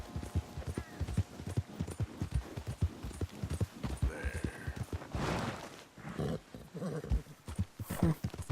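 Horse hooves clip-clop steadily in Red Dead Redemption 2, a quick, even rhythm of fairly soft hoofbeats with a brief snort and faint game ambience.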